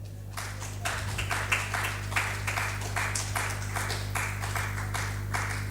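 Audience clapping for a speaker being introduced at an international conference on gender equality, a steady mid-level wash of many hands over a constant low hum, with no talk.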